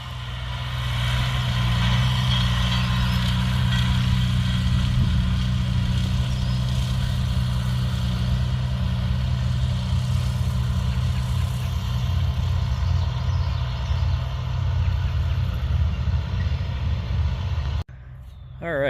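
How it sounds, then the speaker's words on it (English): A tractor disking a farm field runs with a loud, steady low engine drone, close and continuous. The tone stays even, and it cuts briefly near the end. "then I'll grab the tractor and start disking."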